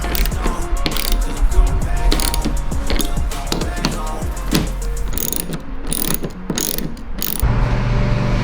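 A hand ratchet tightens self-locking bolts with washers on a Supra, with rapid loud clicking pawl strokes in quick bursts close by and brief pauses between runs of cranking.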